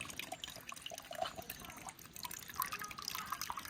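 Coconut water drips and trickles while being poured out of a coconut, giving faint, scattered small plops and splashes over a quiet background.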